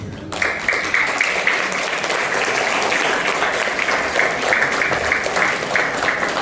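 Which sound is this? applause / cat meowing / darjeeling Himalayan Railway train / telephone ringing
applause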